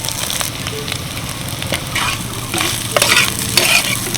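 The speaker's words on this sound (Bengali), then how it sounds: "হালকা নাড়াচাড়া করে নিয়েছি।" Mashed boiled potato filling for rolls is stirred in a frying pan over steady heat, giving a constant close sizzle with repeated scraping strokes of the spatula.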